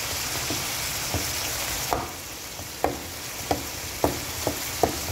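Liver sizzles steadily in a hot pan with Knorr cubes added for pancit canton, a spoon stirring and scraping in sharp taps every half second or so over the constant frying hiss.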